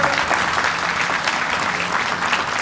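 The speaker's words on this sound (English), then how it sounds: "if we could have an applause" An audience at a school graduation ceremony applauds a school board member being introduced, a loud, dense burst of clapping that stays even throughout.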